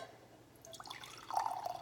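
A little water is poured into a glass jar, a soft trickle that rises into a brief bright gurgling fill after a quiet start, close and alone.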